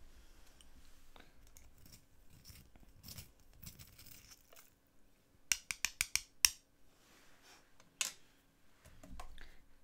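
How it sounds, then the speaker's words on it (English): A pencil being sharpened during a drawing session, with scattered quiet scraping and rustling, then a burst of sharp clicking cuts in quick succession, a lone snap later, and soft handling noise. "Right, sharpen the pencil."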